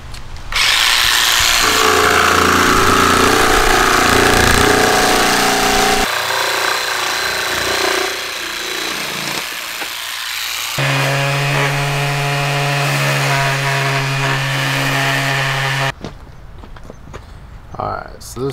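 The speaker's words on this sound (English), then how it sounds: "Get this one cut out with the jigsaw." A jigsaw cuts out a plug, giving a loud, steady power-tool whine for most of the stretch; the pitch shifts partway through, and it cuts off near the end.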